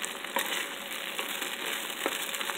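Close-up sizzle of garlic and chili frying in oil, a steady bright hiss with scattered pops and small crackles, no talking.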